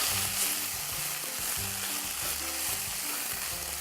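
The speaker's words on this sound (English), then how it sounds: "we add 2 small red potatoes cut into chunks. Mix it in." Red potato chunks are stirred into a sizzling frying pan, with a steady hiss of frying and soft scraping stirs repeating throughout, close and alone with no talk.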